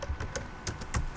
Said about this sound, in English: It's actually not easy talking and typing at the same time